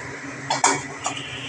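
A metal lid goes onto a cooking pot of fish curry: two quick light clinks of metal on metal, close by, over a low background hiss.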